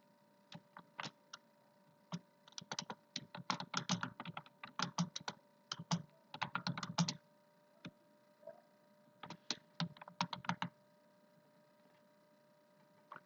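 Rapid bursts of computer-keyboard typing, clicking out in quick irregular clusters with short pauses between runs, close and clear over a faint steady background hum, with no talking.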